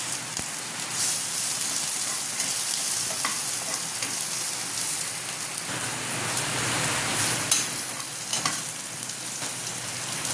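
Garlic and onion fry in hot oil for a beef soup, a dense steady sizzle and crackle with occasional stirring scrapes, close and continuous with no talk.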